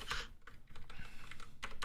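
Someone types quickly on a computer keyboard, the keys clattering in uneven bursts with brief pauses, close and fairly quiet, with no talking.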